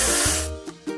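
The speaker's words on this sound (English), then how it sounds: "Let's paint over the discolorations." Virtual spray paint from a truck-building video game, covering discolorations: a short loud hissing burst that fades, followed by two brief puffs of spray, with game music notes in the background.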